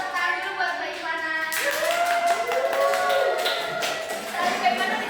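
Classroom applause for a student named Ivana during a teaching-practice lesson on gratitude: a steady patter of clapping from the group, mixed with voices talking over it throughout.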